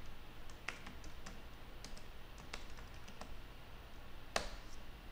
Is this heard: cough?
no